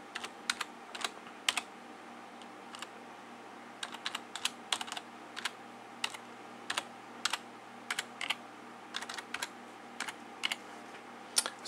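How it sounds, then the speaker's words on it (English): Keys on a computer keyboard tapped in short uneven bursts while an email address is entered, close and fairly quiet, with steady light background hiss and no talking. "Now, obviously, this has to be typed in properly."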